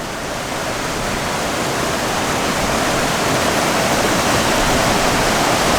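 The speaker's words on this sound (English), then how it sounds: "The actual waterfall itself is in the background." Water pours steadily over the Ingleton waterfall, a dense, unbroken roar of rushing flow that holds at an even, loud level throughout, with no voices over it.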